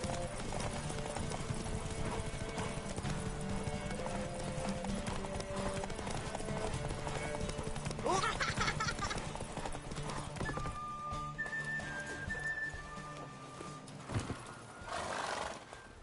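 Roach, a horse in the video game The Witcher 3, galloping with rapid rhythmic clip-clopping hooves and a whinny, over game music and ambience, the hoofbeats thinning out toward the end.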